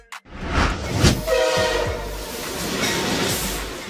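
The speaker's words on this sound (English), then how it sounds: "A freight train is a train used for transporting goods and commodities." A freight train passes with a loud, sustained horn blast over the rumble and clatter of its rolling wagons, heard close and alone without any talk.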